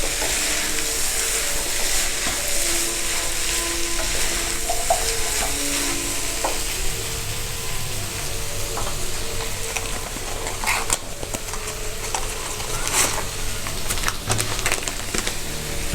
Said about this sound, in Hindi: अब हम इसमें हमारे बॉयल किए हुए एग डालेंगे। इसको अच्छे से मिक्स करेंगे।